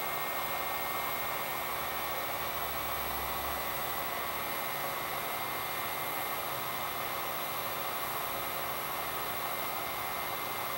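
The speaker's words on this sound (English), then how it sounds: "I have not used the heat gun on high." A heat gun set on low blows onto a TV circuit board, giving a continuous, loud, steady airy rush with a faint low rumble early on, unbroken for the whole stretch and with no voices.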